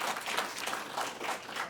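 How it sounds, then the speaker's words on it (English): A small audience claps for a multiple myeloma survivor at a rare disease gathering, a soft, washy patter of hands throughout the short stretch. "So that deserves a clap"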